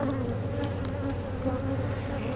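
Honeybees buzz during a hive inspection in a dense, continuous, close drone that stays loud and steady throughout, with no voices.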